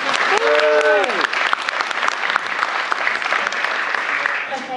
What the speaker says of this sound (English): Let's give her a big, big round of applause